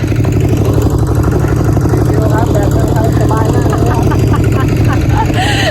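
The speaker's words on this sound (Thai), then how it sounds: "วันนี้เราก็ขับรถไถชิวๆนะคะ" A walk-behind two-wheel tractor is driven slowly toward a rice field, its engine chugging loudly and steadily at close range the whole time. A voice can be heard mixed in under the engine noise.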